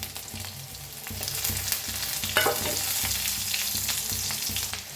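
Onion and tomato sizzle in a hot pan, frying loudly and steadily while a spoon stirs and scrapes them now and then. The sound is close and continuous, with no talking.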